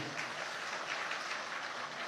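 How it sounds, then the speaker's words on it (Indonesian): A dense wash of audience applause for regional chairmen at a national gathering, continuous and fairly faint, heard from a distance. "Tepuk tangan buat Ketua DPW."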